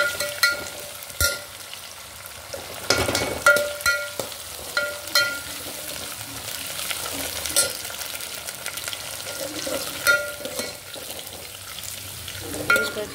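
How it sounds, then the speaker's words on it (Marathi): Urad dal drops into hot oil tempered with cumin and mustard seeds, crackling and sizzling steadily with scattered pops and stirring scrapes, close and without any talk, for idli sambar. "उडदाची डाळ पण टाकतात फोडणीला."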